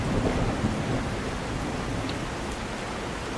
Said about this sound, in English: Quite the storm we got going on.